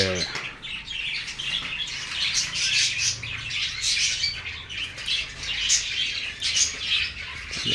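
Lovebirds in a large walk-in aviary about ten feet high chirp and tweet steadily, with occasional wing flaps mixed into a continuous, moderately loud chatter.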